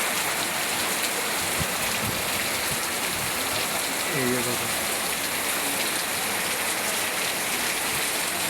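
Heavy rain pours steadily onto a street, a loud, even hiss of falling water throughout, and a person speaks briefly partway through.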